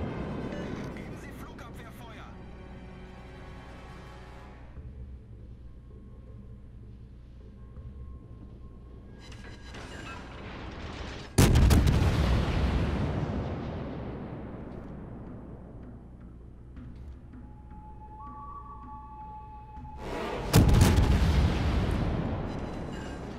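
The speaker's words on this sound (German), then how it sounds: "Die Lexington, die wird jetzt natürlich sofort beschossen" Naval guns fire at the carrier Lexington in the World of Warships game: two heavy, loud booms about nine seconds apart, each with a long rumbling decay over quieter engine and ambient battle noise.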